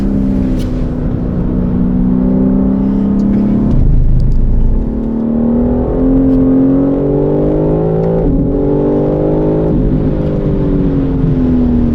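A BMW M3 CS straight-six revs hard from inside the cabin, pitch climbing through the gears with brief dips at each shift, loud and close with no talk.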